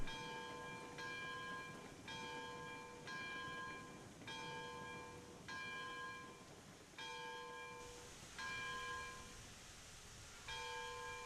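A steam locomotive's bell in the train game Railroads Online clangs in repeated rings about once a second, bright and metallic, with no talk over it.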